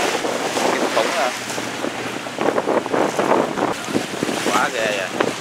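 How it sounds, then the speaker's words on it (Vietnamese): A speed boat pitches through rough water as waves slap against its hull, with loud wind buffeting the microphone and a steady engine rumble underneath, and a voice talks intermittently over the noise. "Sóng đánh tới đây luôn à."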